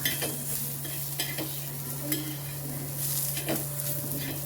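A spoon stirs egg curry in a pan, with close clinks and scrapes against the metal over a soft sizzle and a low steady hum.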